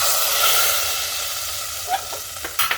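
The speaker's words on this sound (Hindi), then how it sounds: "इसमें हम तड़के को डाल देंगे" Hot tempering oil sizzles loudly as it is poured into moong dal, a bright crackling hiss that gradually settles, followed by a few soft stirring clinks.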